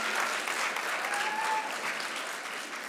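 Audience applause fills a lecture hall after a speaker's introduction, a steady dense clatter of many hands held at even loudness with no voices on top.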